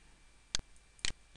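Two sharp computer mouse clicks about half a second apart, close and fairly quiet over faint room hiss, no speech.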